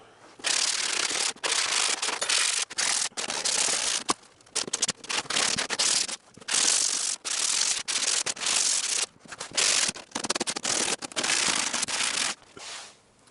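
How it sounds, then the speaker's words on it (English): A power sander works over a carbon fibre car splitter in loud, close bursts of harsh abrasive rasping, stopping and restarting repeatedly with short gaps between passes. "we're going to just literally blast it all with a sander real quick"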